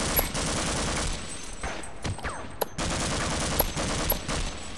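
Rapid gunfire bursts from the Half-Life mod Follow The Freeman, dense and loud, with a short lull in the middle before firing resumes, no talking.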